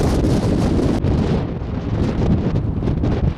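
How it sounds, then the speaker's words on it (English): Strong wind batters a hilltop overlooking the River Mersey, a loud continuous roar buffeting the microphone with gusty surges, no voices. "Very windy."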